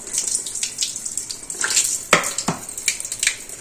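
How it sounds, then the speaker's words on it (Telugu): Tap water runs and splashes over a hot plate of freshly steamed sago papad batter, in uneven, gushing bursts that are loud and close, with no talking. "ఇప్పుడు ట్యాప్ కింద తిప్పుకోండి"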